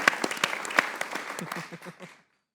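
Studio audience applause on a Pakistan cricket talk show, a brief round of close, distinct claps that thins out and stops into silence.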